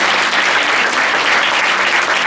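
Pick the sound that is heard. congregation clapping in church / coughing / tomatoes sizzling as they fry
congregation clapping in church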